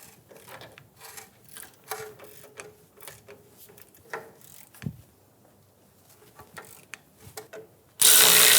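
A hand ratchet with an 18mm socket works loose the brake caliper bracket bolts on a 2007-2017 Ford Expedition, giving a string of quick, close clicking strokes before a sudden loud burst of hiss at the end.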